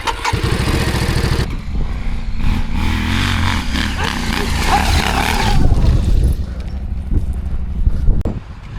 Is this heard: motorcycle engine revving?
yes